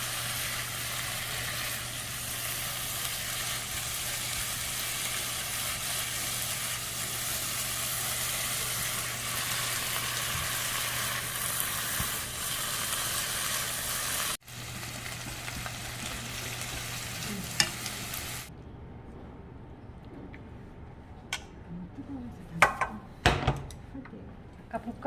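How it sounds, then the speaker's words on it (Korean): Beef, shiitake and wood ear mushrooms stir-fry over very high heat, making a steady loud sizzle that runs for a long stretch before cutting away to quieter clinks and scattered clatter. "고기랑 표고버섯이랑 목이버섯을 볶잖아요"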